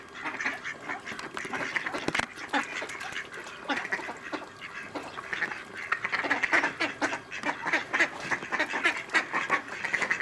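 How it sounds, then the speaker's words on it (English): A lively crowd of ducks and swans at the water's edge, with ducks quacking close and almost continuously in overlapping, busy bursts for the whole stretch. "enjoying ourselves next to the water and watching a lovely horde of ducks and swans"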